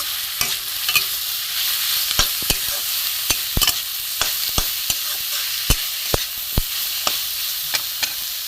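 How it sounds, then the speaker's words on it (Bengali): Grated, squeezed radish being stirred and fried in a pan, a steady sizzle broken by frequent sharp spatula knocks and scrapes against the pan, close and alone. "এর সাথে আমি কষে নেবো ভালো করে মূলোটা ভাজবো"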